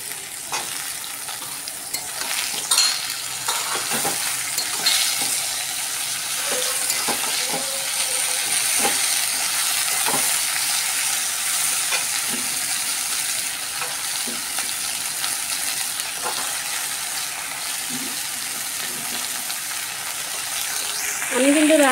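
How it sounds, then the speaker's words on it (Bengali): Chopped leafy greens, cooked with only salt and turmeric, sizzle and hiss steadily in a hot pan, with a spoon stirring and scraping now and then. The frying is close and continuous, with faint talk in the background. "এবার আমি কেটে রাখা শাকগুলো দিয়ে দিচ্ছি"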